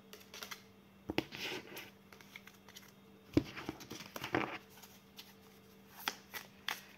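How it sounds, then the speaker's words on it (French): Tarot cards being reshuffled by hand, giving quick papery riffles and soft slaps in short bursts, close and fairly quiet, with no talking. "Je vais remélanger."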